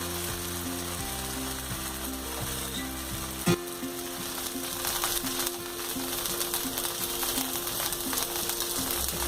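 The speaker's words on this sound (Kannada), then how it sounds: "ಒಂದು 2ರಿಂದ 3 ನಿಮಿಷ ನಾವು ದೋಸೆ ಎಲ್ಲ ಆಗೋದಕ್ಕೆ ಬಿಡೋಣ. ಮೇಲಿಂದ ಒಂದು ಸ್ವಲ್ಪ ತುಪ್ಪನ ಹಾಕ್ತಿದ್ದೀನಿ." Onion rava dosa fries with ghee on a hot pan, giving a steady close sizzle throughout with a few faint clinks from a utensil.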